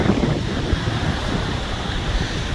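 Strong wind sweeps across a mountain lookout at Panchgani, a loud, steady roar buffeting the microphone with a constant rushing noise and no voices.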